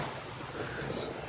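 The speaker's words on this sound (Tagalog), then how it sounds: "ito tayo sa may dagat, tabing dagat" Sea waves washing onto a sandy beach, a brief steady roar of surf mixed with wind buffeting the microphone, with no voices.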